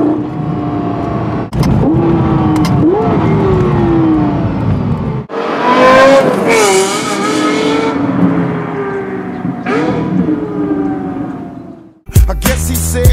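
A 2012 Lexus LFA, spoiler raised, revs hard while driving, its engine note climbing and falling in loud, close sweeps for about twelve seconds before a sudden cut to a different sound.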